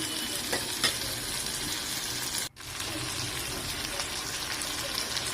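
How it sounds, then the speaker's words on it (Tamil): Food is sautéed with a little salt in a frying pan for Tirunelveli-style cowpea tamarind curry, giving a steady sizzle with scraping stirs, close and continuous apart from one brief break, with no talking. "நல்லா வதக்கி விட்டுக்கிட்டே இருங்க."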